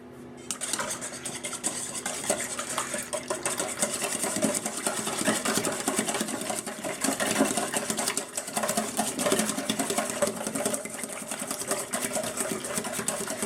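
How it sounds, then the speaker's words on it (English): Eggs being stirred briskly in a bowl, a continuous clinking, scraping rattle of utensil against the bowl, fairly close and steady throughout, with no talking. "We're going to give these a good stir."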